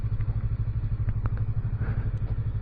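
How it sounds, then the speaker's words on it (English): A small sport bike being ridden, its engine giving a steady low throbbing drone with faint clatter and wind throughout, no talk. "when you're riding on a little crotch rocket like this"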